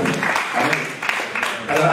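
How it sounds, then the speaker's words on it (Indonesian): A congregation claps during a church prayer service for miracles. The applause is steady and fairly loud, with crowd voices mixed in for the full two seconds. "Tepuk tangan yang meriah."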